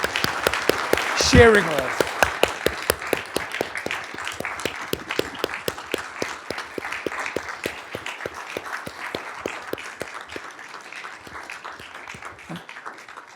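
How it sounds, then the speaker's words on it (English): An audience claps in a lively round of applause that gradually thins out, while a voice speaks briefly near the start. "a round of applause"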